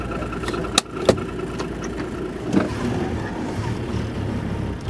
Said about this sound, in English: I'm just going to try and start the car up